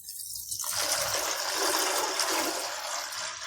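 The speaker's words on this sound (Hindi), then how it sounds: "अब हम इसमें इतना पानी डालेंगे ताकि दाल अच्छे से गल जाए" Water gushes steadily into a pot of soaked chana dal, starting after a brief quiet moment and pouring loudly and continuously to the end, with no voices.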